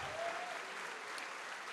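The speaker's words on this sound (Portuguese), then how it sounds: "Mas eu quero que você dê mais uma salva de palmas para aquele que te formou." Church congregation applauding during a service, a soft, steady wash of distant clapping with no distinct individual claps, quiet and continuous for under two seconds.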